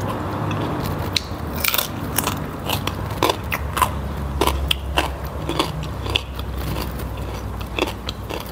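Someone bites into papaya salad with crispy pork cracklings and shrimp, making a close, rapid series of sharp crunches and crackles as they chew. No one talks.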